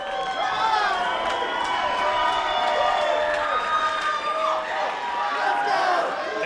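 Wrestling event crowd at the Rhodes Wrestling Association's Fall Fury 2 cheering and shouting steadily throughout, a dense roar with excited yells rising over it, with commentary voices heard beneath.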